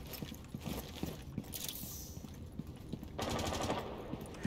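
Rapid automatic gunfire crackles in a Rainbow Six Siege match, quiet and somewhat distant, with sustained bursts that swell louder near the end.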